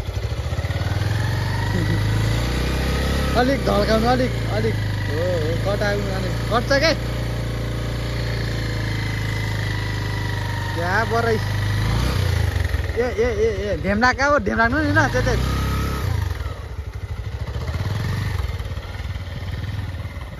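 Tractor engine running steadily in a rice-planting field, a continuous low rumble throughout, fading near the end, with people talking and calling out over it.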